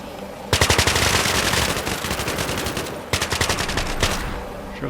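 A machine gun fires sustained rapid bursts in the game Cepheus Protocol, loud and dense, with one brief break before a second volley that fades out.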